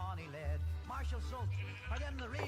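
Sheep in a modded Minecraft survival world bleat in several wavering, repeated calls, close and clear over a low steady background hum.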